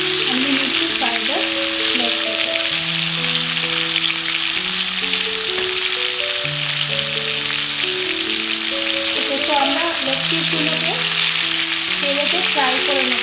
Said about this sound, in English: we need to fry the leg pieces